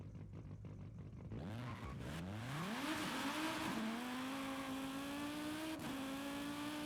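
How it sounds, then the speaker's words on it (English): A miniature race car in a racing video game spins its tires, engine whining and climbing steadily in pitch with a continuous screeching tire squeal, loud and unbroken, no talking. "This thing just spins the tires, though."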